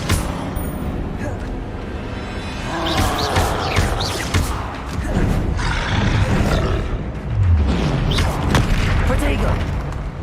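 A Bombarda spell blast in Hogwarts Legacy, heard as loud booming, roaring explosions and combat rumble that swell and subside over several seconds, with voices talking over parts of it.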